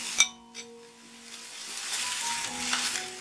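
Brinjal being stirred in a pan with salt and turmeric, a clink of a utensil against the pan followed by soft steady sizzling and scraping, close and fairly quiet.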